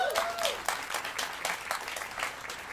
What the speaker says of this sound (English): Can we give a round of applause to the organizers of the event?